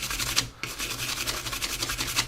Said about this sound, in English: I'm going to use my little stiff brush